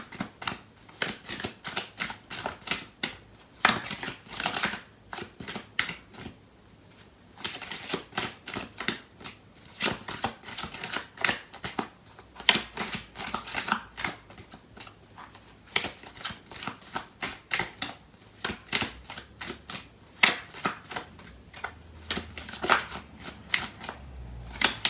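A tarot card deck being shuffled, with a steady run of crisp, riffling card flutters and slaps close by, repeating in quick bursts throughout with no talking.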